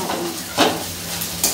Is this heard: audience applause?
no